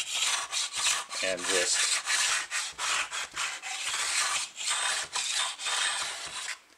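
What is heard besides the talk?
block sander sanding wooden planks of a model ship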